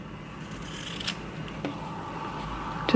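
Scissors snip through ribbon for a hair bow in a few quiet, sharp cuts spaced about half a second apart, close by against soft room noise.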